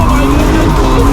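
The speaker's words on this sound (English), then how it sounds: "Here we go with the drifting of Sri Lanka." A car drifting at a Sri Lankan drift event roars loud and close with a continuous harsh engine drone and tire skid for a brief moment.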